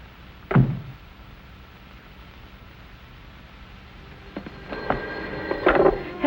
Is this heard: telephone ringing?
yes